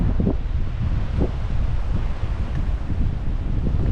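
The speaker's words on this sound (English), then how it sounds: "It's about 40 degrees, pretty windy." Steady outdoor wind roars and buffets the microphone throughout at Fort Jackson on the Mississippi River, around 40 degrees, with low rumbling gusts and no voices.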